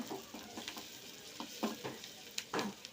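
Greens being sautéed in a pan for a tomato spinach dish, with a soft sizzle broken by several quick stirring scrapes, close but quiet, with no talk.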